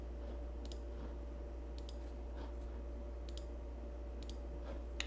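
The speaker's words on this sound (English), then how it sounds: "so let's click here." Mouse clicks while setting up an elastic IP address in the AWS EC2 console: four short, sharp double clicks spread through the stretch over a steady low hum, with no talk.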